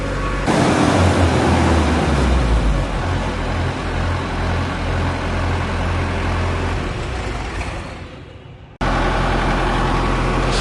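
A repaired ARN98 combine harvester's engine runs loud and steady at close range, a deep droning rumble that dips briefly near the end before returning at full strength.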